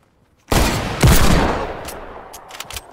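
Loud hand cannon gunshots in Fortnite crack in quick succession, a heavy blast followed by another and a scatter of fainter shots trailing off.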